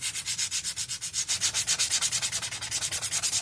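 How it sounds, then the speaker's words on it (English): Rhythmic back-and-forth strokes of a sander on a wooden piece from a St Patrick's Day house DIY kit, steady close rasping pulses about every fifth of a second throughout. "Let's get us our sander. This one's a lot more rough."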